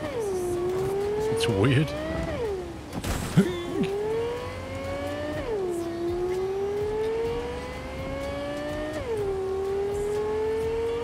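Electric-sounding car engine in the video game Cyberpunk 2077, a steady whine that rises and falls in pitch several times as the car accelerates, with a brief squeal burst early on and people talking over it.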